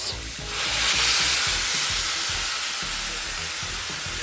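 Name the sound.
hot water poured into sizzling pan for salmon sinigang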